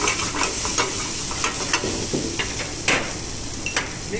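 Grated paneer and potato are stirred together in a hot pan, a steady sizzle under repeated scraping and tapping of a spatula at an uneven rhythm.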